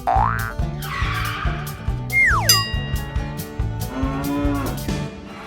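Dexter cattle on a ranch give long, loud moos, with a rapid rhythmic thumping pulse and sliding bright tones running alongside through the whole stretch, and no talking.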